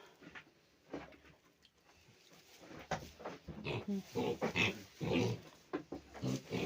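Weaned piglets in a pen grunt and squeal in short, irregular bursts that grow louder and busier toward the end, sounding close by, with voices talking now and then.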